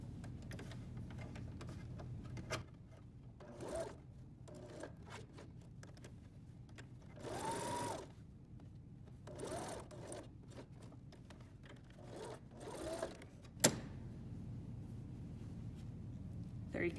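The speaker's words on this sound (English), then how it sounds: "And then straight stitch on top to top stitch it." A sewing machine top stitches a seam on a coverall, its short bursts of rapid whirring stitching separated by quiet pauses, fairly faint and close, with some handling sounds between runs.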